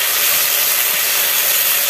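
Spice paste with ground tomato sizzles in hot oil for a Bengali-style egg and potato curry, a steady, loud, bright hiss that holds without a break, close by and with no talking.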